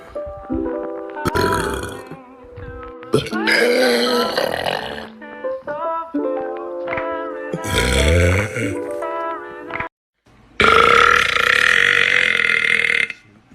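A man lets out a long series of loud, drawn-out burps, some grunting and tonal, broken by a brief silence and then a final long, rasping belch.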